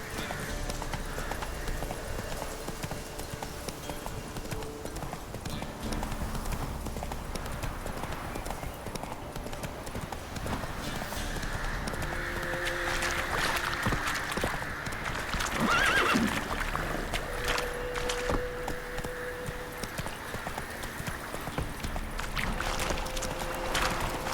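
Roach the horse clip-clops at a steady gallop and whinnies in The Witcher 3, rhythmic hoofbeats running throughout with a louder neigh rising midway over a game soundscape.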